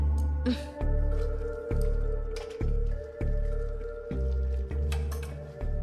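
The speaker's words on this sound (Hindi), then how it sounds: "खाल इस तरह से निकल जाती है।" Wet, squishing film sound effect of skin peeling off a corpse left waterlogged for several days, heard as a run of heavy, slick, gloopy pulls and drips, loud and close with no speech.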